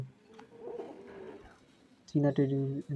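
Pigeons in a loft of Pakistani high-flyer pigeons with their young give soft, murmuring coos, then a louder, nearer pulsing coo bursts in close for the last second.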